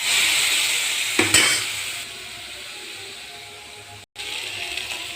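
Nigella seeds, chili and turmeric powder and poppy seed paste frying in oil, a loud crackling sizzle that jumps as the paste drops in, then settles into a quieter fry with stirring.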